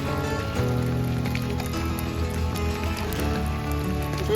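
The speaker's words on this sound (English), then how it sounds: "I mean, this is not abnormal rain for us to have." Heavy rain pours steadily in a dense, continuous hiss with scattered drip and splash accents, filling the scene close by with no voices.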